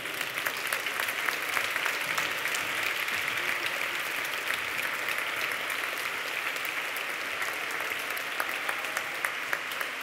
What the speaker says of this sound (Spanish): Enhorabona i un fort aplaudiment.